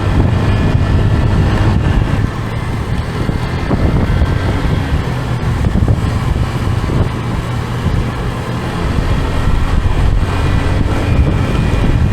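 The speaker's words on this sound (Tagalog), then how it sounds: "Ang sarap damhin ng hangin." Steady wind rushing and buffeting against the microphone, a continuous low roar that holds throughout with slight dips in strength.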